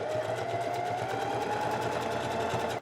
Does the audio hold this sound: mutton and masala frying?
no